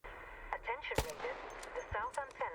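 Gunfire in the video game Arc Raiders, a sharp nearby shot followed by a few quieter bursts, heard under a person talking.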